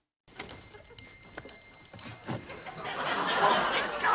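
Alarm chimes from a sundial in an episode of The Black Adder: a regular series of bright bell-like ticks or dings at about half-second intervals, then a rising, louder burst of clatter and noise toward the end.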